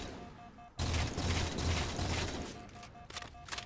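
A bolt shot gun in the video game Halo 4 fires as a quick run of muffled bursts after a short quiet start, with sharp cracks near the end over a faint steady electronic tone.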